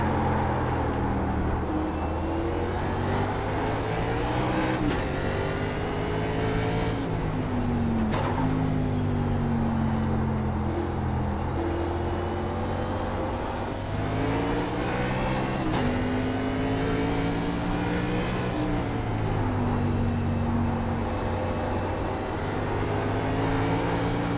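A NASCAR race car engine in the iRacing game at Watkins Glen drones loud and steady, repeatedly climbing in pitch through the gears and dipping as it shifts, with the rising and falling revs continuing unbroken throughout.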